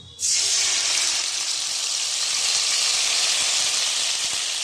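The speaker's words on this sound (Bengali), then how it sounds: "এরপর তেলের ওপর দেব কালো জিরে ফোড়ন।" Nigella seeds tempering in hot oil for a potol dish burst into a loud, bright sizzling hiss that starts abruptly and holds steady throughout, close up and with no speech.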